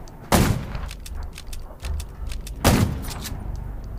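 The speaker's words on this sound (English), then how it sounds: "Gunshots will attract more zombies." Two sharp gunshots ring out in the zombie game Undawn, the blasts about two seconds apart, with smaller clicks and clatter between them.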